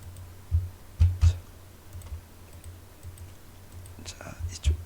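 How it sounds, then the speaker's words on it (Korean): A few sharp clicks of keys pressed on a computer keyboard for the Ctrl Alt F shortcut, coming in small clusters over a quiet room hum with soft breathy sounds in between. "나머지도 Ctrl Alt F 누르시고"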